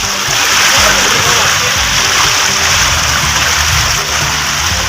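Floodwater rushes around a flooded house in the Dooars region after a night of heavy rain, a loud continuous broadband splashing roar close by, with someone talking over it.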